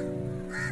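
Crows cawing close around, a short harsh burst of repeated calls with a steady tonal drone underneath and no talking.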